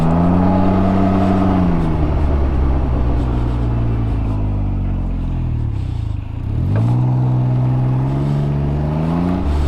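A Can-Am Ryker with a CVT transmission cruises at 21 mph and 3,000 RPM, its engine a loud, close rumbling whine whose pitch drops gradually, dips, then climbs again.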